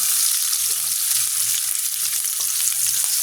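Cinnamon, cloves, cardamom and pepper frying in hot oil at the start of a spicy mutton curry, giving a dense, steady sizzle with light stirring clicks, close and continuous with no talking.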